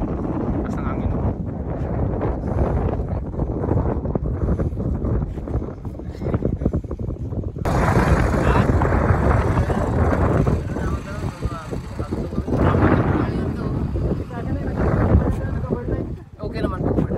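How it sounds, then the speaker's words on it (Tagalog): Strong wind buffets the microphone, a steady rumbling roar over a roadside hilltop in the Philippines, growing louder midway, with a voice speaking in Filipino over it. "Taas ng hangin oh."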